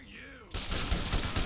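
AK rifle gunfire breaks in after a brief moment of voice, a rapid burst of sharp shots that repeats in quick succession at close, fairly loud level.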